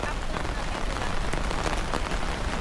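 Rain falls steadily on a camping site in a pine forest, a dense, even patter close by that fills the whole span without pause.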